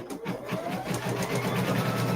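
An embroidery sewing machine running a placement stitch on a wall-hanging project, a close, rapid, steady mechanical chatter with a pulsing beat and no voices.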